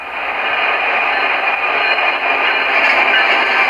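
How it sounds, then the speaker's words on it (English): A loud, steady rushing roar of a train passing close by, sustained and broadband throughout with no voices. "the train blazes by with only inches to spare."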